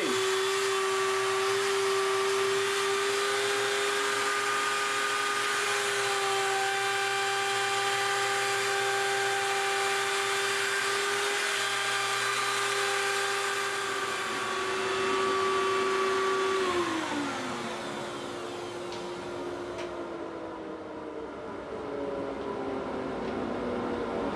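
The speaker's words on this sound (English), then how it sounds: "I'm going to start up our router and hit the machine." A router cuts an inlay into the body of a sci-fi guitar, a loud, steady whining hum with bright ringing tones that holds for a long stretch before the pitch sags as the bit slows near the end.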